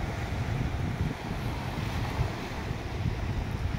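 Strong sea waves churning along the shore at Atimonan, Quezon Province, a steady loud rumble of surf mixed with wind buffeting the microphone, continuous throughout with no voices.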